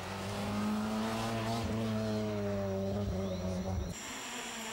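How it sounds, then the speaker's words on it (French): A Peugeot 106 Magic Feel rally car at the 1994 Rallye des Grands Fonds drives past with a steady, loud engine drone that holds a constant pitch, then cuts away abruptly near the end. "la perf de ce début de soirée est signée Philippe Désert avec une Peugeot 106 Magic Feel, 5e scratch"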